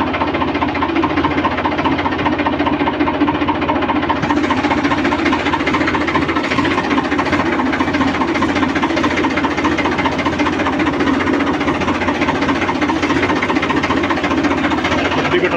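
A tractor engine runs steadily and loudly throughout, a continuous rough chugging drone with a knocking pulse at a rural well in Punjab, no pauses or talk.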